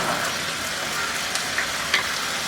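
Turmeric, coriander and cumin powder stirred and fried in hot oil for a pointed gourd curry make a brief, continuous close sizzle, with a few light spoon scrapes against the pan.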